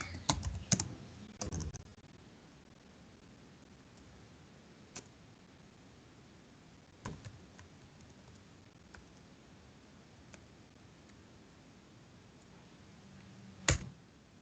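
Computer keyboard keys tapped while entering a Git alias command: a quick burst of close, light clicks at the start, then sparse isolated keystrokes in a quiet room with no talking.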